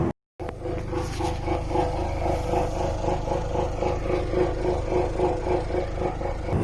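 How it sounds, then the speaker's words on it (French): A Jaguar luxury car with a broken exhaust idling with a loud, rough, tractor-like rumble, a steady throbbing drone that starts abruptly after a brief silence and runs on unbroken, close and alone. "ça fait un gros bruit de tracteur dégueulasse"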